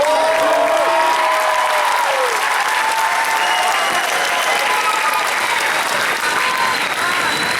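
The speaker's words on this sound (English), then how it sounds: "Let's give them a round of applause." Sustained, loud applause fills an eighth grade graduation ceremony hall as the audience claps continuously and evenly for several seconds, with faint voices mixed into the crowd noise.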